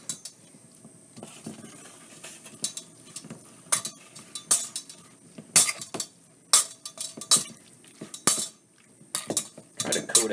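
A utensil scraping and clinking against a pan while chicken stir fry with soy sauce is tossed, irregular metallic taps and clanks close by, some sharp, over a low background.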